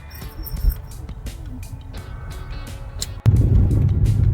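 Slow-moving road traffic on a rainy-season journey near roadworks in Karad, with a vehicle engine rumbling low and close, light clicks and knocks over it, and a louder surge of engine noise near the end.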